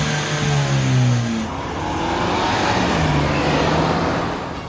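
A Ford Bronco with a MagnaFlow exhaust rumbles and revs close by, a deep throaty engine note swelling then settling into a steady loud drone with no talk.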